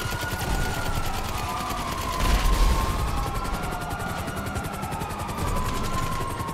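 Helicopter in GTA 5 Online, a continuous rotor thrum with steady pulsing chop throughout, alongside a wavering siren-like tone and game background noise.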